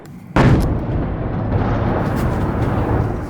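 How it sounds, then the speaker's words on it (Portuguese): A heavy explosion booms in a Ukrainian city during a missile and drone attack, a sudden loud blast followed by a long, dense rumbling roar that stays loud throughout. "Centenas de mísseis e drones."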